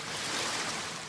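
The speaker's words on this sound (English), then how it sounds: "Waves and a foghorn." Ocean waves wash in a steady, full broadband roar that fills the whole moment without a break, loud and close, with no voices over it.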